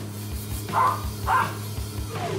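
A dog in the video game Sunset Overdrive gives two short, mid-loud barks about half a second apart, with a fainter third yelp near the end, over a steady low game hum.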